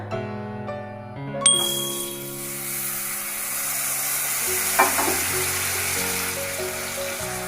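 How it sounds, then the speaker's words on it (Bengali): Black cumin and mustard-poppy paste dropped into hot mustard oil, a sudden loud hiss that settles into a steady bright sizzle, heard close under sustained background music. "তেল আমার গরম হয়ে গিয়েছে তাতে দিয়ে নেব একটু কালো জিরে এবার আমি দিয়ে নেব কিছুটা সর্ষে পোস্ত বাটা"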